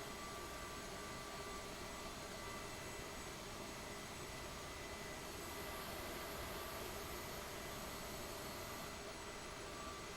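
Steady, continuous whine and rumble of airliner jet engines at low thrust while taxiing from San Francisco toward Los Angeles in Microsoft Flight Simulator 2020, an unbroken hum without pauses or voices.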